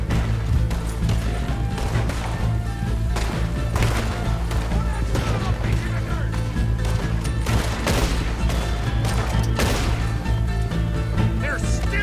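Repeated gunshots and bursts of gunfire during a bank robbery shootout in Red Dead Redemption 2, loud and sustained over game music and a steady low drone, with occasional sharp impacts.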